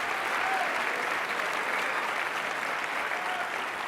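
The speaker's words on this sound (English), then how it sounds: "I'd love to give yourself a round of applause, guys." Steady applause from a large audience at the PlayStation Experience 2015 conference fills the hall, dense and continuous for about four seconds with no break, the clapping blending into an even roar.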